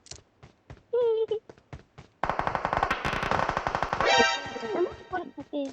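Rapid automatic gunfire from PUBG Mobile rattles in a long, dense burst after a few scattered single shots, loud and close, mixed with voices talking and calling out over it.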